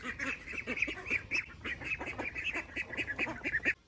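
Ducks quack and honk repeatedly at feeding time in a lively, overlapping chorus, close by with no talking.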